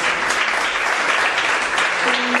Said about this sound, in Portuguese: Que a igreja dê uma linda salva de palmas para o Senhor.